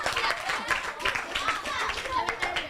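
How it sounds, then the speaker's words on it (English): A studio audience on a TV morning show claps for a child guest, quick uneven bursts of hand claps close by, with voices talking over and around them. "Clap for Courage."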